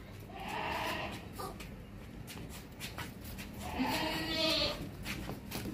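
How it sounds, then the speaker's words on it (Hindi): A big, fat castrated goat, two-toothed and raised for sacrifice, bleats twice with faint, drawn-out calls, one early and one near the end, over quiet outdoor background noise. "पाँव से लेके सर तक ज़बरदस्त बकरा है, मोटा बकरा है, बड़ा बकरा है"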